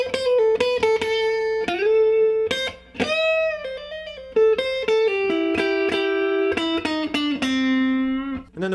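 Electric guitar plays a minor pentatonic blues scale lick slowly, with clear distinct plucked notes, some bent and sustained, sounding close and alone with no talking.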